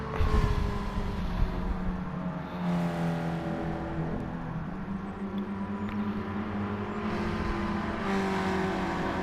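Historic racing cars at the Goodwood Revival Sussex Trophy, a Renault leading, engines roaring continuously as the cars pass close by, loud and sustained with shifting engine pitch.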